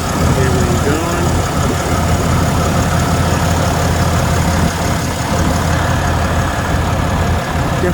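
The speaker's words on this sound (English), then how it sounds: "Definitely quiet for a diesel." Diesel engine idling outdoors among pine trees, a steady low rumble close by and fairly loud, with a person talking over it.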